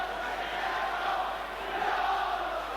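A football crowd buzzes steadily after a York City goal, with a dense continuous murmur of many voices and faint cheering held at an even level throughout.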